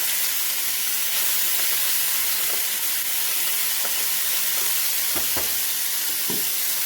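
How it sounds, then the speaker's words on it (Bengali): Potatoes frying in a pan, a constant loud sizzling hiss close by, with a few soft clinks and stirs near the end. "তোর আলুটা একটু লাল লাল করে ভেজে নিই।"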